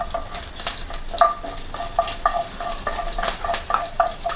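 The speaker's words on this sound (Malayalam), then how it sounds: "തീ കുറയ്ക്കാം കടുക് പൊട്ടുന്നുണ്ട്" Mustard seeds crackle and pop in hot oil in a pan, a busy sizzle punctuated by sharp spluttering bursts and a few metallic scrapes of stirring, close and fairly loud.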